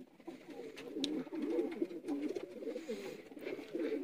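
Golden pigeons of pure breed in Sialkot coo in soft, repeated rolling phrases, close and fairly quiet, with no talk over them.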